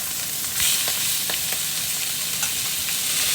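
Close, loud sizzling and frying from Salisbury steak patties just turned in a hot pan, with a few spatula scrapes over the crackle.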